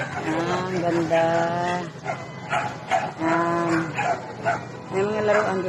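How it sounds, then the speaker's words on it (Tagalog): Several dogs in a garden park bark and yip in short repeated bursts, fairly close and clear, with pauses between the volleys and some background noise. "Daming dogi, oh."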